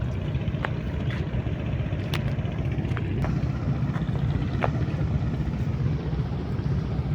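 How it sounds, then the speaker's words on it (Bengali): A motorized trawler boat runs over water waves, its steady engine drone and broadband rumble holding loud and continuous throughout, with faint clicks scattered on top. "মনে হইতেছে আমি চলতাছি"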